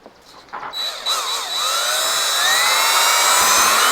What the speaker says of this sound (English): so it makes it a lot easier to drill